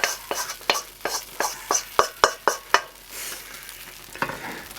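A spoon stirs sauce through a sausage and bean stew in a pan, about ten rhythmic scraping strokes close by, then the stirring slows to a quieter simmer with one more stroke near the end.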